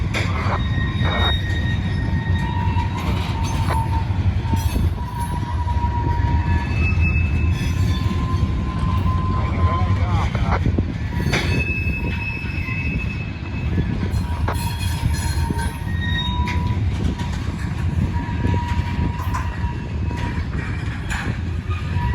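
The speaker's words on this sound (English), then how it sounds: "Now there is another Norfolk Southern train coming on track 2." A heavy Norfolk Southern freight train rumbles steadily past up close, wheels clattering and occasionally squealing against the rails throughout.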